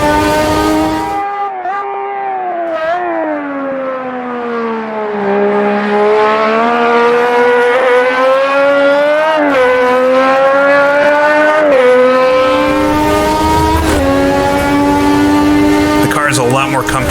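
A classic Formula 1 race car screams through gears in Automobilista 2, its loud, close engine note rising and dropping with each shift and corner over a long stretch, with someone talking over it at times.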